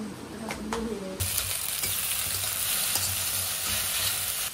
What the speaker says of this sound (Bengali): এই পাস্তাগুলো খুব বেশি ভাজলে শক্ত শক্ত হয়ে যায়, তাই সব কিছুর সঙ্গে একটু হালকা করে নেড়ে নিয়েছি।